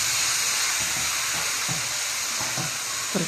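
Pork simmering in a covered pot, giving a steady hiss of steam with faint soft bubbling pops underneath, constant and fairly close.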